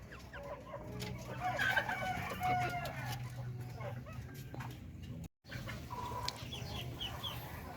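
A flock of chickens and ducks feeding outdoors keeps up steady clucking and scattered calls, with a rooster crowing among them, while a person talks over the birds.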